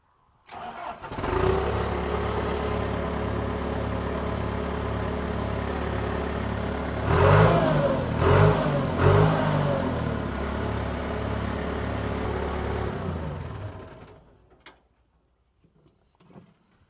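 A John Deere 650G dozer cranks and fires on fresh batteries, settles into a rhythmic, loud diesel idle with a brief rough surge partway through, then shuts down and fades to near silence.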